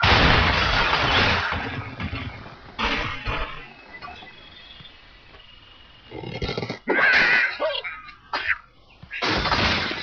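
Explosions and crashing debris burst from the Angry Birds Rio game, loud shattering bursts at the start, then scattered cracks and crumbles with quieter gaps and a final burst near the end.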